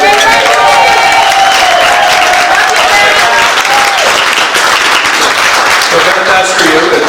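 Party crowd at a 50th celebration clapping and cheering loudly and steadily, a dense wash of applause with shouts and whoops throughout, close and filling the room.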